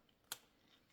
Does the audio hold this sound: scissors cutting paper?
yes